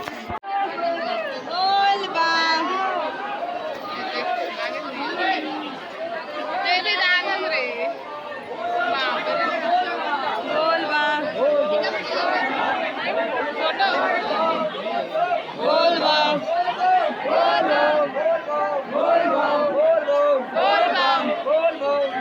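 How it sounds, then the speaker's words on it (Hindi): Village pilgrims returning from the Rajim Bol Bam gathering chant the Bol Bam slogan together in a dense crowd, a continuous, loud mass of voices with rhythmic shouted phrases rising through steady babble. "ये लोग बोलबम का नारा लगा रहे हैं"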